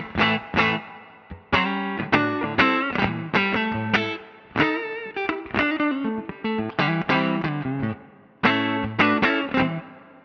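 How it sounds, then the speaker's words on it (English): Electric guitar with Bare Knuckle Triptych pickups played on a clean tone through spring and hall reverb, a loud, close run of picked chords and single notes that ring out and decay between phrases, with no talking. "this is my clean tone, and we've got the bare knuckle triptych pickups"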